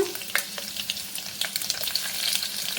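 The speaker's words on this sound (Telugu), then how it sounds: "నూనె వేడెక్కింది కదా కొద్ది జీలకర్ర అమ్మా కొద్ది నాలుగు ఆవాలు వేసేసుకుందాము ఎల్లుల్లిపాయలు వేసేసుకుందాము" Cumin, mustard seeds and garlic hit hot oil for a tempering, crackling and sizzling close up with quick popping bursts and light stirring, moderately loud with no voices.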